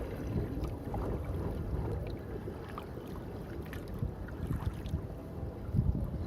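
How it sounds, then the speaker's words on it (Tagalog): Steady wind buffets the microphone with a low, blustery rumble that never lets up, with no voices, while fishing outdoors. "Medyo mahangin pa dito mga idol."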